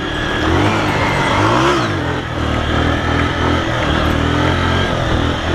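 A Honda CG 125 motorcycle engine revs loud and close, with a rising-then-falling rev swell early on before it settles into a steady, gritty throttle drone for the rest of the run.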